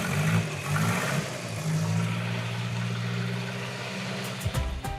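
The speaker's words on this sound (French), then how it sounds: "le moteur 4 cylindres bodybuildé de notre Peugeot 201 Hot Rod redémarre au quart de tour" Four-cylinder engine of a hot-rodded Peugeot 201, dormant for 35 years, running after a restart with a steady low drone and a rev change near the end, fairly loud with no talk.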